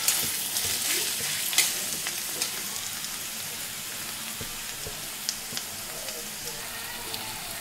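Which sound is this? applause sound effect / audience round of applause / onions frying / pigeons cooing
onions frying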